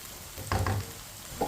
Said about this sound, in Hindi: इसे ऐसे ही चम्मच चलाते हुए ब्राउन करें ताकि प्याज हमारे अच्छी तरह पक जाएं।